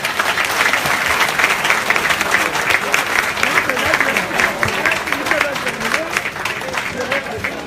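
Audience applause after a speech by the A.C.R. president, steady dense clapping throughout with some crowd murmur and voices mixed in.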